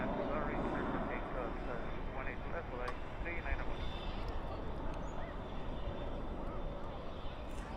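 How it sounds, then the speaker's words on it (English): A Valaris Airbus A320 jet departs at night from Dallas/Fort Worth International Airport, its engines a steady, broad roar that holds throughout at moderate distance, with no talk over it. "There's that Valaris A320 right now departing."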